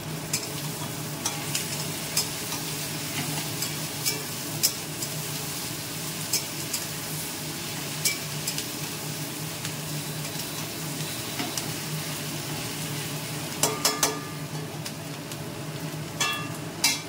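Chopped onions sizzle steadily in hot oil in a pan, with a constant frying hiss broken by scattered scraping taps and clinks as a spoon stirs them; no voices.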